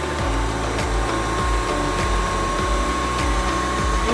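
A vacuum cleaner runs its automatic self-cleaning cycle, a steady motor whine and airflow hum with a regular cyclic whirring pulse repeating roughly every half second, close and continuous with no talk.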